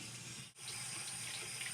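Hot tap water runs steadily from a bathroom faucet into a sink before teeth brushing, a continuous close hiss and splash with one brief dip near the start and no voices.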